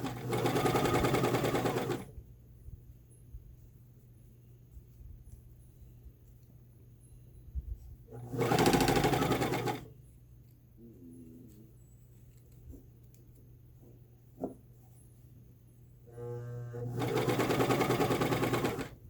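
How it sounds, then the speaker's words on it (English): A serger stitches a knit skirt in three loud, fast whirring bursts at the start, middle and end, with quiet handling noises in between. "Let the serger do its thing."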